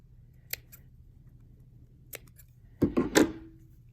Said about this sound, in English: I'm going to cut a little chunk right here too.